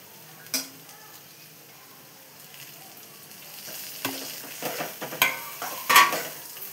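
Bitter gourd vegetable with turmeric and leftover spice is stirred in a frying pan, a soft sizzle under scraping and clinking spoon strokes that grow busier and louder toward the end.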